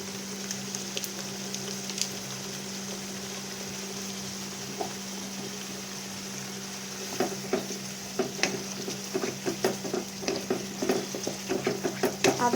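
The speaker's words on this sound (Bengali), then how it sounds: "আদা রসুনের কাঁচা গন্ধটা না যাওয়া অবধি এগুলো একটু ভালো করে একসাথে মিক্স করে নিতে হবে।" Onions and ginger garlic paste frying in oil in a pan, a constant steady sizzle with stirring strokes that grow busier and more rhythmic toward the end, close and alone.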